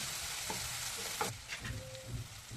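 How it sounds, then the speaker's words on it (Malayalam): Egg bhurji with turmeric and spices is stirred in a hot pan, a soft continuous sizzle with a few scraping spatula strokes and light taps, quiet and close, with no voices. "എന്നിട്ട് ജസ്റ്റ് ഒന്ന് ഇളക്കി കൊടുക്കാം"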